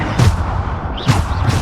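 In the Hogwarts Legacy video game, the Bombarda explosion spell gives two loud, booming blasts about a second apart. Each blast has a low thump and a burst of noise.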